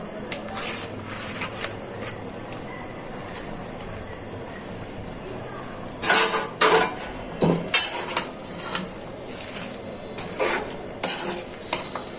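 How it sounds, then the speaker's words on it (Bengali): Spinach is stirred into cooked prawns in a hot pan, with a continuous sizzle and repeated loud scrapes and clatters of a utensil against the pan, close up. "চিংড়ি মাছটা সিদ্ধ হয়ে গেছে, এখানে পালং শাকগুলো দিয়ে দিচ্ছি।"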